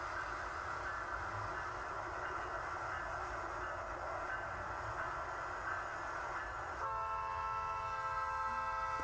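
A train horn sounds steadily at a distance while a train rumbles along, the horn shifting to a new tone near the end.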